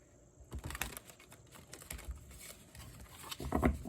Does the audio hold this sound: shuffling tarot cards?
yes